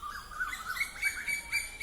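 Small cage budgerigars chirp softly at the Garia bird market in quick, repeated high tweets, faint and continuous against a quiet background.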